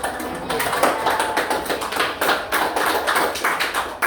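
Students in a classroom clapping, a loud, close flurry of many quick, sharp hand claps that keeps going steadily for several seconds without speech.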